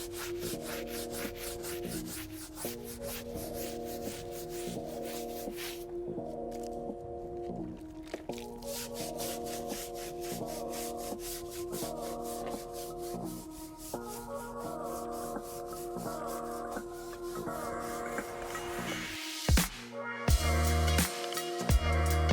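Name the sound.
scrubbing a car tire and chrome wheel with a stiff bristle brush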